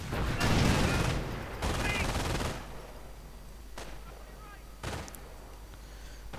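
Grenade blasts and gunfire crack through a WWII strategy video game battle involving a Sherman tank, with two heavy bursts early followed by scattered sharp shots and softer rumbles, all under a commentator's voice.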